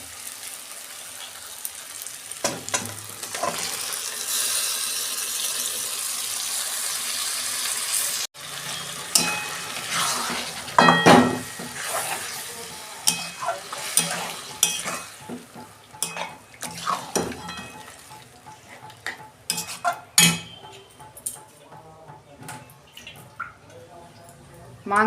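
Mutton pieces fried and stirred in spiced oil for a Bengali mutton curry, with a steady sizzle, scraping stirs and occasional clinks of a spoon against the pot, close and fairly loud, with no talk.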